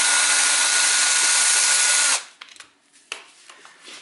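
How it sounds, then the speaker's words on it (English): A power drill whines loudly and steadily for about two seconds drilling into a damaged cylinder head bolt in a car engine, then cuts off, followed by a few faint clicks and taps. "and then I start to drill."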